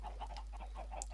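Chickens cluck in a Minecraft automatic chicken farm and cooker, a quick run of short, faint clucks over a steady low hum.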